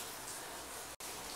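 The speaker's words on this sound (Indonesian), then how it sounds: "Background sound kita kali ini adalah suara hujan" Steady rain patters softly in the background, a faint even wash broken by one brief dropout near the end, with no talking.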